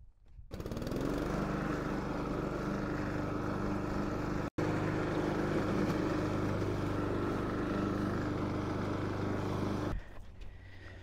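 A gas lawn mower engine runs steadily and loud for about ten seconds at a house's lawn in spring, with one brief dropout partway through before it drops to a lower idle at the end.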